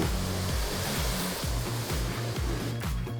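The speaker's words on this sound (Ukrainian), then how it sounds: "Змиваємо все водою." Water is sprayed steadily over the body of a Lada Niva to rinse off foam, a continuous close hiss and splatter with no voices.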